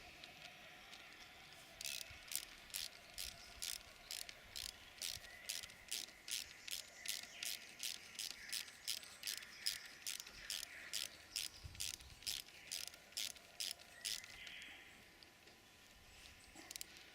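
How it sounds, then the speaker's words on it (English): Two 5/8 socket spanners ratchet nuts tight on flail blades of a Model-17 flail: a long run of evenly spaced, crisp clicks, fairly close but quiet, ending in a short still pause. "then tighten them up with two 5/8 socket spanners"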